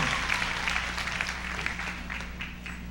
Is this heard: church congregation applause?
yes